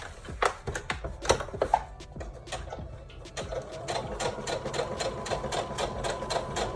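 A sewing machine stitches lace appliques onto a wedding dress, its needle running in a close, steady mechanical patter with brief pauses as it pivots at the underbust, then a continuous run; no voices.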